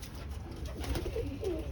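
Rescued pigeons coo softly inside a concrete-floored aviary, a few low, gentle, rolling coos rising briefly over a faint background hiss.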